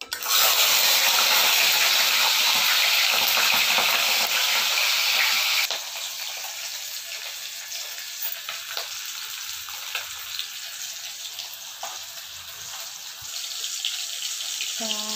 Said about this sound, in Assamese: এয়া মাছ ফ্ৰাই কৰিম।